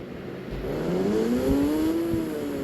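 A Hayabusa motorbike engine in the mobile game Indian Bike Driving 3D revs up, its synthetic tone rising in pitch over a couple of seconds, heard close and alone without talk.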